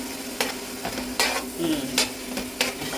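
Lightly crushed onions frying in a pan for Chaduva fish curry, a soft sizzle broken by four or five sharp scraping stirs at a fairly even pace, close and alone.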